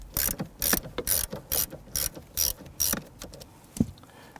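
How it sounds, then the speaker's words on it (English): A hand ratchet with a 10mm socket loosens the ground terminal on a 2011-2021 Jeep Grand Cherokee 3.6L V6, giving about ten close, crisp clicking bursts in a steady rhythm, with no talking. "We're going to use a 10mm socket to loosen the ground terminal here."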